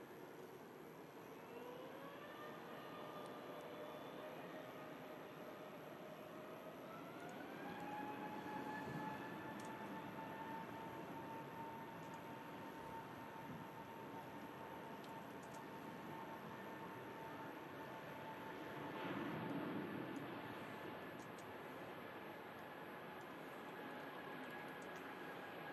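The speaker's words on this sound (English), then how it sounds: "Scandinavian A320neo just initiating her takeoff roll." Scandinavian Airbus A320neo jet beginning its takeoff roll on runway 23 left at Manchester Airport, a steady distant engine roar with rising tonal whine that climbs in pitch as thrust builds, sustained and broadband with no talk.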